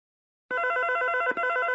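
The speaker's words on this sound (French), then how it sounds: "réponds au téléphone" A telephone rings loudly and continuously with a steady electronic warble, starting after a brief silence and continuing alone with no voices over it.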